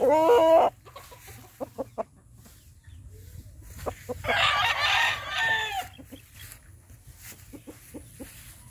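A pure Kelso gamefowl rooster crows loudly nearby, a full crow around 4–5 s, with shorter clucks and calls before and after over a steady low hum.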